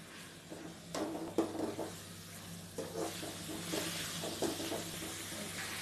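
Onions with chopped tomatoes and a little salt sautéing in a pan for prawn thokku gravy, a steady close sizzle broken by occasional scraping stirs of a spoon against the pan.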